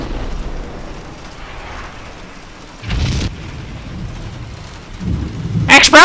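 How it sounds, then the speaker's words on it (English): Explosions in the video game Max Payne 2: a heavy, booming blast bursts out around the midpoint, and a second, louder roaring detonation follows near the end over a low rumbling background. "Explosion!"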